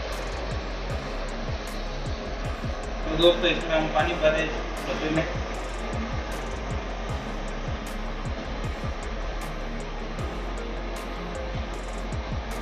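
A small motor on a homemade water spray machine, set up to pump water from a container, runs with a steady whirring hum with a brief rise in the middle while someone talks over it throughout.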